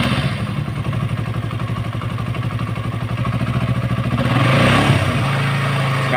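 A Honda CB150R motorcycle engine being cranked by the electric starter, a rapid rhythmic chugging that catches and settles into a steady idle, loud and close.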